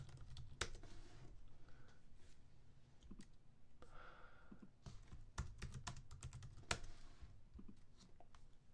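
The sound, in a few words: typing on a computer keyboard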